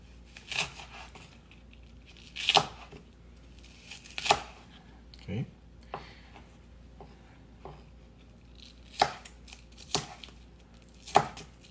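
A knife chops through a homemade Peking duck (Beijing roast duck) on a board, giving sharp, separate cuts spaced a second or two apart at close range in a quiet room.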